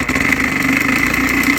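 A vintage Elna Supermatic sewing machine with a fault runs steadily with a rough, rattling whir and a fast ticking clatter, loud and close throughout.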